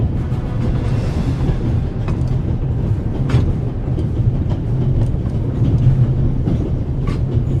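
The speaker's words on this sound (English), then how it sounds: "I need to stop the train as quickly as possible." A runaway steam train in a video game rolls along with a steady, loud rumbling drone and faint rhythmic rail clatter, with no voices throughout.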